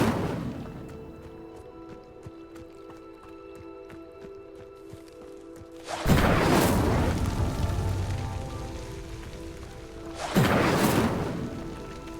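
Two bursts of the Incendio fire spell from Hogwarts Legacy igniting pyres, each a loud whooshing roar of flame that swells and fades, the first lasting several seconds and the second shorter, over a quiet ambient game background.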